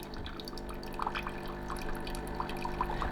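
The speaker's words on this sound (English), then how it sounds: "now we're just going to turn it on and it's going to rinse through water" A Bosch Tassimo Suny coffee machine rinses fresh water through its system. A low mechanical hum runs under soft trickling and scattered drips, all close and fairly quiet.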